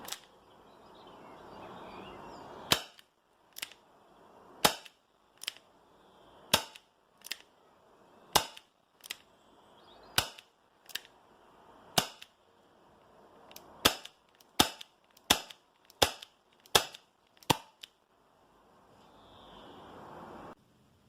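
A Tanaka Works Colt Python 2.5-inch airsoft revolver fires 0.25 g BBs on green gas: about twenty sharp, snappy pops in an irregular sequence, some spaced apart and others in quick runs, close and distinct against a quiet background.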